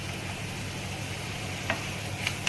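A tadka for tamarind chutney sizzles in hot oil as a steady, close, even hiss, with a couple of faint clicks near the end and no voices.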